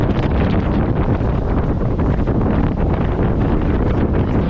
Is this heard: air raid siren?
no